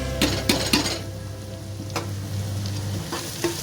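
Green chillies drop into a hot tempering in a pan for a Punjabi-style pea curry, giving a steady close sizzle of frying with a few sharp clinks and stirring scrapes and no talking.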